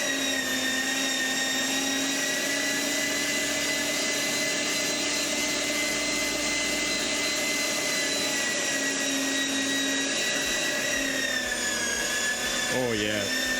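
An electric meat grinder churns through an entire KFC box meal, a steady loud motor whine with harmonic drone running throughout, shifting pitch near the end as it bogs down.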